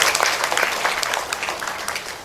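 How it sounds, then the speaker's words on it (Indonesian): An audience at an Isra Mi'raj religious gathering claps together in dense, steady applause that fills the whole moment, close and even without letting up. "Boleh tepuk tangan untuk kita semua."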